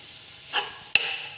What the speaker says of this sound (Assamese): এয়া মই লৰাই আছো ঘনাই লৰাই থাকিব